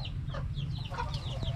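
White broiler chickens clucking in short, scattered calls over a steady low rumble, sounding close by and moderately loud.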